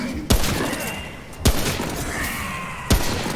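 Gunfire in the video game Remnant: three loud, sharp shots spaced evenly over a steady, dense background of game ambience.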